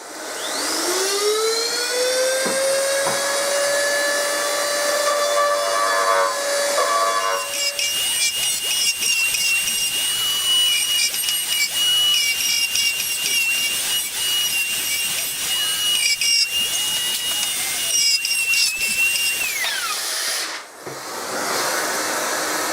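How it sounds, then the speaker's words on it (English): A straight grinder spins up with a rising whine, then bites into a PVC flute to enlarge its holes, giving a loud, harsh, continuous grinding roar for about twenty seconds before winding down. "So that's what I'm gonna do now with the straight grinder."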